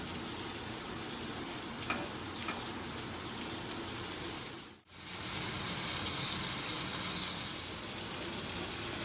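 Continuous close sizzling of food frying with salt in a pan, a steady crackling hiss throughout, with a brief dip near the middle before the sizzle resumes just as strongly.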